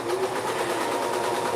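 Serger sewing machine running steadily while stitching a t-shirt, a continuous close whirring hum with a rapid mechanical chatter throughout, loud and alone.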